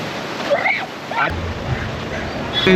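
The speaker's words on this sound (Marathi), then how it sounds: "खूप मोठ्या मोठ्या लाटा येतात" Big ocean surf rushes and breaks on Anjuna Beach in a broad roar, with wind buffeting the microphone and a voice speaking over it.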